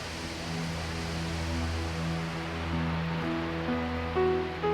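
Roaring rapids at Niagara Falls give a dense, steady rush of water that fills the whole clip, with sustained musical tones layered on top.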